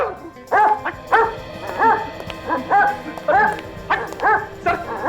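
A dog barks and yips in a quick irregular series of sharp, close calls, some with a whimpering edge, in a crime drama scene.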